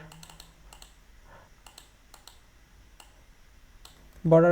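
Rapid bursts of typing on a computer keyboard while HTML code is written: light, close clicking keystrokes in quick irregular runs, ending as a voice starts speaking.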